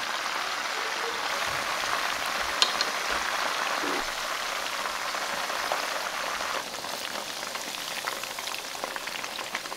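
Quail frying in melted Tuong An margarine at medium heat, a steady dense sizzle and crackle running continuously near the pan with occasional louder pops.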